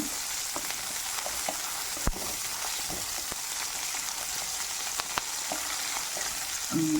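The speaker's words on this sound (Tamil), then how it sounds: "லைட்டாக கலர் சேஞ்ச் ஆகிற வரைக்கும் மட்டும் வதக்கினா போதும்" Curry leaves sautéing in coconut oil, a dense crackling sizzle close up with scattered sharp pops and a few spatula taps against the pan.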